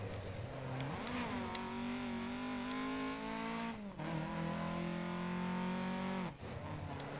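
A loud, steady engine drone with gear shifts and brief dips in pitch as a rally car races in Dirt Rally 2.0, running continuously without talk.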